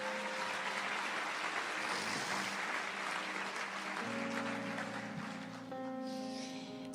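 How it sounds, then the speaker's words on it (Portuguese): A church congregation applauding together, a broad steady wash of clapping that gradually thins while sustained organ-like musical tones rise underneath. "Aplauda o Senhor mais uma vez,"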